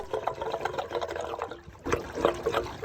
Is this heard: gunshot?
no